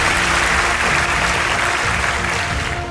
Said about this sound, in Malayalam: ജനസാഗരം ഒന്നടങ്കം കൈയടിച്ചു